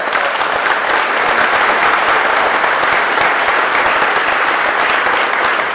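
An audience at an announcement about the Pixelle paper mill in Chillicothe breaks into loud, sustained applause, even and dense throughout, with no speech on top.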